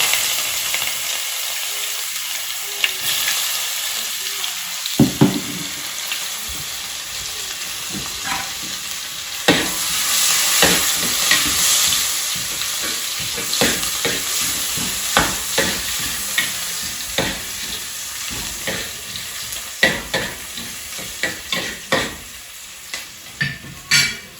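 Sliced onions frying in oil with cloves, cardamom, fennel and star anise, a continuous close sizzle broken by frequent scraping stirs of a spoon against the pot.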